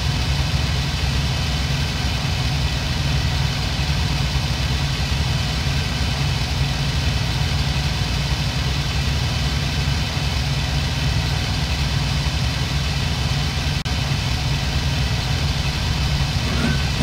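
A World War II fighter's piston aircraft engine in a Battle of Britain flight simulator game, throttled up, drones as a steady, unbroken mid-to-low roar that holds at a constant loud level throughout.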